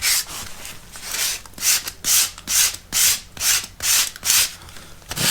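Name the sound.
sanding around the sides of an electrical socket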